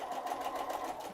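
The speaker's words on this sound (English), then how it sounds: "We're going to re-attempt to sew the seam in the sashing." A sewing machine runs steadily as it stitches a seam in quilt sashing, a brief close, even whirring hum.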